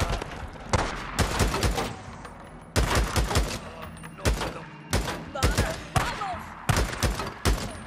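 Repeated bursts of rapid gunfire in the video game Days Gone in loud volleys separated by short pauses, with thuds and clatter filling the gaps between them.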